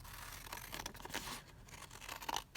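Scissors cut through paper for a junk journal in soft, quiet snips and rustles, close but faint, with light crinkling between cuts and no talk.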